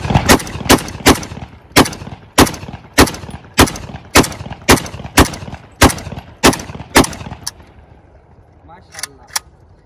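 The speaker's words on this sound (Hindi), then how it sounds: "टेस्ट फायर करने लगा हूँ इस पे, साउंड भी इंशाल्लाह चेक कर लेंगे इसका" A Chinese Type 56 AK-47 rifle fires single shots in a steady, evenly spaced series of about thirteen loud, sharp cracks, then a pause and two last shots, each close and followed by a short echo.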